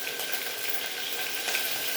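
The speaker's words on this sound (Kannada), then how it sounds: "ಎಣ್ಣೆ ಕಾಯಿತು, ಸಾಸಿವೆ ಹಾಕ್ತೀನಿ ನೋಡಿ ಜೀರಿಗೆ ಒಗ್ಗರಣೆಗೆ." Curry leaves and mustard seeds tempering in hot oil give a steady, close sizzle: a dense, even hiss with light crackling throughout and no voices.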